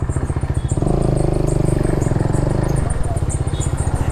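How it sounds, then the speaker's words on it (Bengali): A Hero Karizma XMR 210cc motorcycle engine with a new exhaust runs close by, a loud, rapid, evenly pulsing thump that rises briefly in revs and then settles back to a steady idle. "এই যে বাইকটা বন্ধ হলো"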